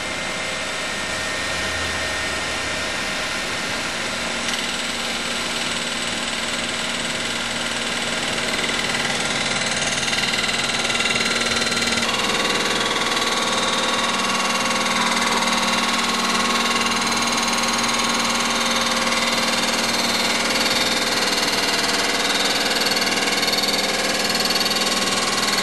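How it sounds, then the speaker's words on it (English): Resurfacing machine milling the deck of a Honda D16 engine block, taking a fine cut: a steady, loud mechanical grinding hum with bright high-pitched cutting whine running continuously, no speech. "I've set the machine, so we're going to take about another thousandth and a half off"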